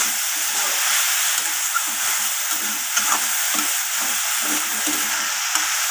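Leafy greens fried with sugar are stirred in a hot pan, giving a loud, constant sizzle with repeated scraping strokes of the spatula at a steady rhythm, and no talk.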